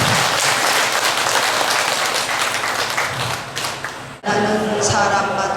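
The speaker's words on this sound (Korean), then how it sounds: "오늘 방문을 해주신 정황 선생님께 박수." Applause from an assembled audience at a Buddhist dharma service, welcoming a visiting teacher: dense, steady clapping fills the room at close range, cutting off sharply near the end before a brief renewed burst.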